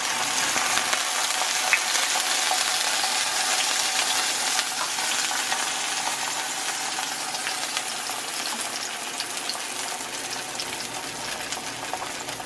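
Birria-dipped tortillas soaked in consomé frying on a hot comal, giving a steady, close, broadband sizzle that holds evenly throughout with no talking.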